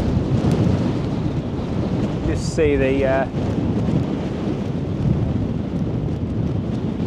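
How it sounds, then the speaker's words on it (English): Strong wind buffets the microphone at a lakeside wild campsite near Keswick, a loud continuous roar with a brief burst of speech partway through. "Right, this wind's picking up."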